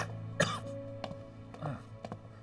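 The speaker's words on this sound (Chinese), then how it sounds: "怎么还有点咳嗽呢？" A woman in a hospital isolation ward gives a few short, quiet coughs and throat-clearing sounds, spaced about half a second apart, close by and with no talk over them.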